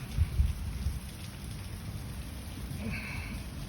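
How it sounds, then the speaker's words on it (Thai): Light drizzling rain falling at a mountaintop viewpoint near a temple above Chiang Mai, a soft steady patter with low rumbling wash throughout, fairly quiet and even, no voices. "ฝนตกพรำๆ นะครับ"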